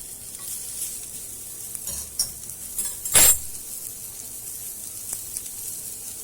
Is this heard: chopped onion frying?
yes